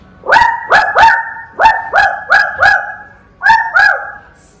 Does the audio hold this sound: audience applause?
no